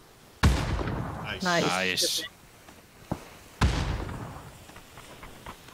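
Grenades go off in PUBG on the Miramar desert map during a ranked squad match: two sharp, loud blasts a few seconds apart, each trailing off in a rumbling decay, with brief voice chat and a rising whoosh between them.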